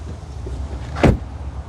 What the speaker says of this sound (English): let's check out the sound of the closing door